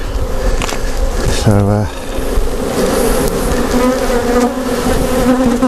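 Dense, steady buzzing of many bees inside a skep, close and loud throughout, with a brief voice speaking over it partway through.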